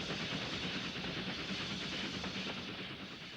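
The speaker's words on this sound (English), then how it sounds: "where another manor is seen drawing to a halt" A Manor class lightweight 4-6-0 steam locomotive draws to a halt at Aberystwyth, a soft, continuous rumble with faint hiss that slowly eases and quietens toward the end.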